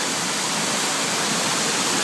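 Floodwater rushes down a steep city street toward the Kurbağalıdere stream in Kadıköy, Istanbul, like an artificial river: a loud, steady, close roar with no break and no voices.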